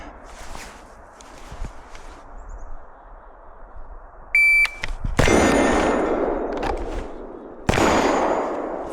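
Pistol fired during a timed low-ready, one-shot shooting drill outdoors in Vermont in the cold: a shot timer beep followed by sharp loud cracks with short ringing decays, preceded by faint shuffling and handling noises.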